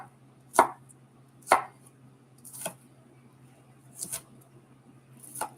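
A knife dices onion on a cutting board with five distinct chops, spaced unevenly about a second apart, each crisp and near with a soft thud against the board.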